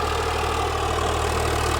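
A 35hp tractor pulling an 11-tine cultivator runs free without load, its engine giving a loud, steady low drone and chug throughout with no talking.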